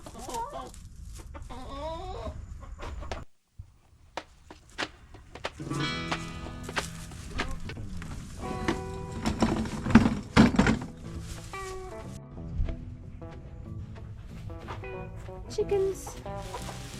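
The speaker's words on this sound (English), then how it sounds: "Chickens." Hens clucking and calling in a straw-covered chicken run in winter, a busy mix of close, overlapping clucks with a person talking now and then.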